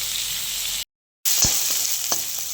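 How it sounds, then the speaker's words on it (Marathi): Onion and tomato sauté in a pan for masala Maggi, giving a close, soft sizzle that drops out briefly and returns with a few light stirring clinks. "आता आपला कांदा आणि टोमॅटो छान परतून झालेला आहे."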